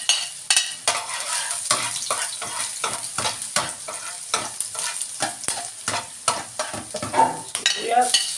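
Onions sautéing in a hot pan while making dinuguan, a steady sizzle broken by repeated scraping stirs of a utensil against the pan, close and fairly loud with no talking.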